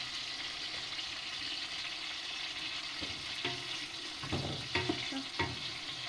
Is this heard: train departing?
no